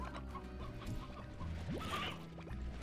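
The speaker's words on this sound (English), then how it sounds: "Oh, there's a lot more chickens. Well, these are the stone chickens." Chickens cluck repeatedly in the video game Slime Rancher, a steady stream of short calls over game music and ambient sound, moderately near with no talk.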